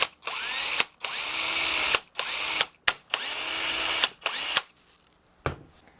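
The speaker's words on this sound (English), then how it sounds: "let's take our drill and a 2 millimeter drill bit." A power drill with a 2 mm bit bores into a wooden guitar neck during a guitar build, whirring in several loud bursts of about a second each with brief pauses between, close up, then a short final burst.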